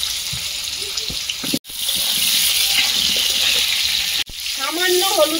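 Potato pieces sizzling in hot oil in a wok, a loud steady frying hiss with two brief cutoffs and bubbling spatter toward the end.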